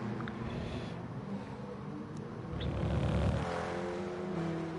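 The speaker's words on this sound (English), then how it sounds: "That car sounds so weird when it touches the strips." A KTM X-Bow race car in Gran Turismo Sport rides over rumble strips, a steady engine drone with a rougher, louder buzzing rattle swelling midway, all fairly close and without talk.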